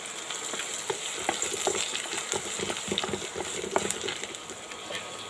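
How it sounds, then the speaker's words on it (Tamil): Onions and garlic sauté in a hot pan for kulambu, salted, giving a steady close sizzle with frequent scraping stirs and light clinks throughout, no talking. "இதெல்லாம் நல்லா வதங்கட்டுங்க 1 நிமிஷம்."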